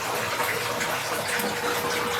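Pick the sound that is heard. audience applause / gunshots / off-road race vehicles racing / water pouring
water pouring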